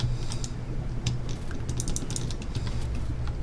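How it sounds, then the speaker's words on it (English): Computer keyboard keys pressed rapidly during a Minecraft game session, a run of light scattered clicks over a steady background hum. "My keyboard not working? Can you not shift..."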